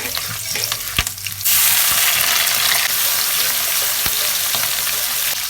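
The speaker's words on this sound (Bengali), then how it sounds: "তেল গরম হয়ে গেছে শুকনো মরিচ কাঠ এলাচ মরিচ আমি ফোড়ন করলাম" Dry chillies and cardamom drop into hot oil for tempering, a few knocks, then a sudden loud sizzle bursts up and keeps crackling steadily, close and alone.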